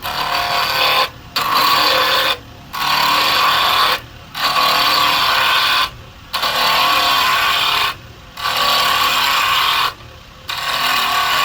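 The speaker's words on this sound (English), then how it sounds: "continues to make passes with the carbide tool there" Carbide tool shaving a wood ring on a lathe, a loud scraping cut in roughly two-second passes separated by brief quiet gaps, repeating six times close up.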